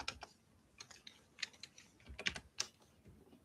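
Computer keyboard typing, quiet and close, with irregular clusters of crisp key clicks and short pauses between them, no talk.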